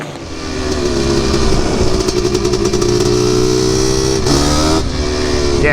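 A Honda TRX250R ATV fitted with a 390cc engine revs hard and close, its raspy engine note climbing and holding with rapid throttle blips.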